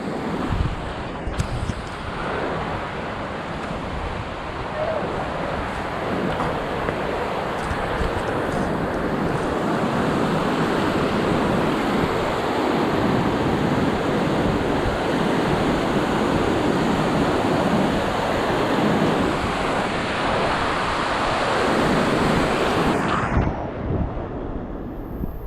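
Deep, fast-moving river water rushes in a steady, loud broadband roar. It stays near and constant, with some wind buffeting on the microphone, and cuts off abruptly near the end.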